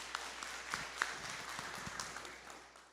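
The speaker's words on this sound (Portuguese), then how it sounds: "Palmas para toda a equipe" A Presbyterian church congregation applauds at a celebration service, a fairly faint patter of clapping with a few sharper claps that gradually trails off.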